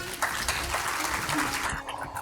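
Clapping from an audience at a stage event fills the clip, steady and dense, with some voices mixed in before it thins out near the end.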